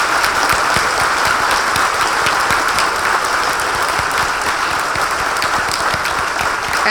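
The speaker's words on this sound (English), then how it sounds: "Give yourselves a round of applause." Audience at a diversity celebration event gives a continuous, loud round of applause, dense even clapping filling the whole stretch without talk.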